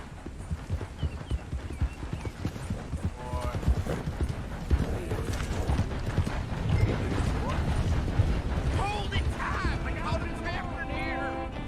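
A horse gallops in Red Dead Redemption 2 with rapid, continuous clip-clop hoofbeats, close and fairly loud, under talk and game sounds.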